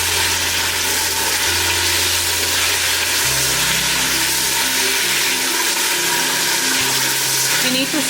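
Mutton frying with translucent onions in a pan, a steady broadband sizzle with low tonal hums shifting underneath, no voices over the cooking.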